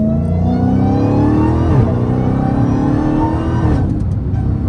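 Dodge Hellcat Redeye engine and exhaust droning steadily while driving, a loud continuous rumble with rising and falling revs, heard up close from inside the car.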